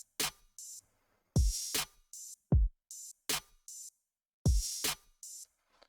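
An open hi-hat in a beat sounds in an offset pattern of bright, short hiss bursts, interleaved with deep booming bass hits and snappy accents, heard cleanly and fairly quietly in a repeating loop.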